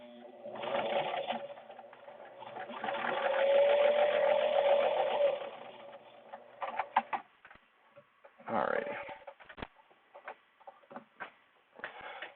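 A sewing machine back stitches a reusable mask with a HEPA filter insert, giving close, steady bursts of rapid mechanical stitching, then pauses broken by clicks, taps and a short final run.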